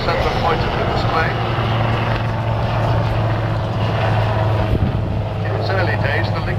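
Royal Navy Lynx Mk8 helicopter hovering at an airshow, a loud steady rotor and engine drone with a sustained low hum, heard alongside a commentator's talk over the display.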